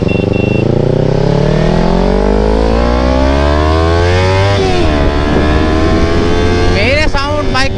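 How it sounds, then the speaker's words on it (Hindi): A Kawasaki Ninja 300 motorcycle engine drones loudly and steadily while riding, its pitch rising through the gears with rev changes near the end, amid other traffic noise. "मेरे साउंड, बाइक का साउंड अलग है गाइस।"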